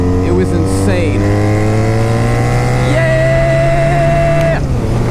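A 1987 Honda Super Magna motorcycle is being ridden, its engine a steady, loud drone that rises and shifts in pitch as it revs, close by throughout.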